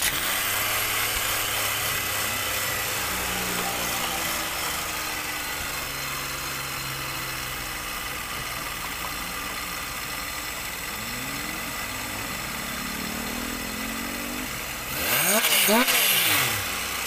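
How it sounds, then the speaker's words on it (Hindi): Car engine idling after the throttle body and idle air control valve were cleaned, a steady continuous hum with a slightly high idle, ending in a louder rev or clatter near the end. "अब गाड़ी को हम स्टार्ट करके चेक वगैरह कर लेते हैं कि क्या पोजिशन है"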